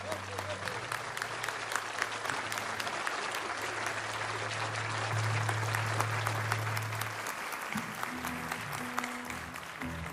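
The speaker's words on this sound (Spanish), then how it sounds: "un aplauso, por favor" Concert audience applauding a band's bass player, a sustained broadband clatter of many hands lasting throughout, with a low sustained bass note and some amplified sound underneath before it fades at the end.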